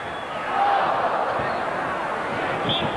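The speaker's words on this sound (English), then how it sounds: "And the crowd cheering for Carlos to take another shot." A basketball arena crowd in a 1984 Boston Celtics vs Milwaukee Bucks game cheers for a player, a steady roar of voices filling the whole stretch, with a commentator talking over it.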